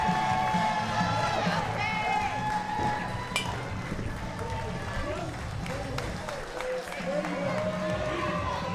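A crowd at a professional wrestling event keeps up a steady wash of cheering and noise, with a commentator talking over it throughout.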